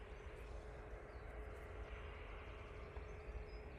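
A Loganair aircraft arriving at Manchester Airport, heard as a steady, distant engine roar and broadband rumble that holds fairly even across the whole stretch, with no talking.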